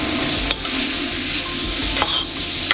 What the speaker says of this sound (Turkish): soğanları biraz pişirdikten sonra artık sallayalım